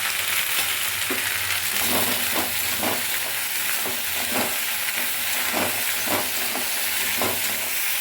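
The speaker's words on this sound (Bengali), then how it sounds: "ভেন্ডিটা আমার প্রায় ভাজা হয়ে গেছে।" Okra frying in a pan, seasoned with salt and turmeric, gives a steady close sizzle with intermittent stirring scrapes across eight seconds and no talking.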